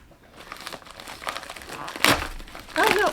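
A plastic mailer package being pulled open by hand gives steady close crinkling and crumpling, with a sharper tear-like burst midway and a brief voice near the end.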